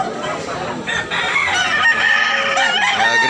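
A Japanese bull stag rooster crows loudly and close by in one long, strained, wavering call that lasts nearly the whole clip, with faint background noise.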